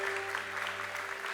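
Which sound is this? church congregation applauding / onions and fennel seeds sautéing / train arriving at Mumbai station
church congregation applauding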